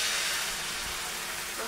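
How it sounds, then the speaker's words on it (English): Steady frying sizzle of scrambled eggs with a bright, crackling hiss from a hot pan, continuous and fairly close, no voices. "Hear that sizzle."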